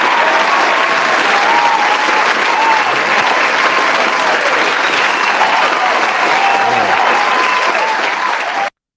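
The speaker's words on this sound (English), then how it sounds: "Hand clap for you." Steady, dense applause from many hands fills the whole stretch, loud and even, with faint voices in the crowd, then stops abruptly.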